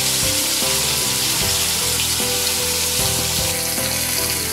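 Small chapila fish fry in oil in a pan over a medium gas flame, giving a loud, continuous close-up sizzle with occasional soft knocks and spatters, and no talking.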